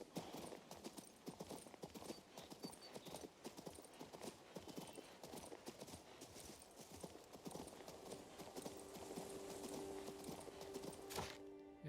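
Horse hooves gallop in King's Bounty 2, a steady rapid clip-clop that runs throughout over game music and ambience, with a faint neigh near the end.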